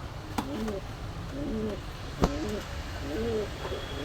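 Indian Lotan pigeons cooing softly at a pigeon shop, repeated gentle coos over a low background hum, with a couple of sharp knocks.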